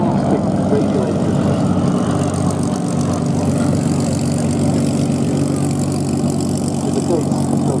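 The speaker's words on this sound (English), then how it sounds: "on the PT-17 Cadet, the military Steerman, leading with the HC-2 Beaver, and these, my goodness, two fantastic aircraft with fantastic radiators" A Stearman PT-17 Cadet with a 220 hp Continental R670 and a DHC-2 Beaver with a 450 hp Pratt & Whitney R985 radial fly at an airshow, making a loud, steady, throbbing propeller drone throughout while a commentator talks over it.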